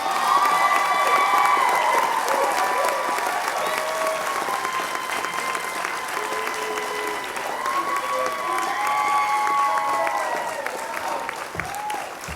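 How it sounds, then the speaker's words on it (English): A commencement crowd applauds and cheers graduates with loud, sustained clapping and scattered whoops and shouts, steady for the whole stretch. "Go ahead, give them an applause"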